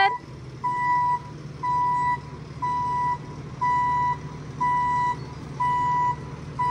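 A small truck reverses while dumping a load of gold-bearing material, its backup alarm beeping seven times in a steady, roughly once-per-second rhythm over a constant low engine rumble.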